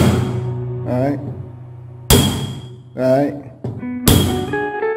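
A plain hammer strikes a screw held against a ceramic bowl to punch a hole, landing as a few sharp, loud knocks spaced about a second apart, alternating with someone speaking close by.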